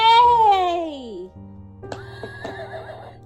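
A person imitates a horse's neigh in a classroom animal-sounds game: a loud, descending whinny-like voiced call lasting about a second, followed by quieter background chatter and small knocks.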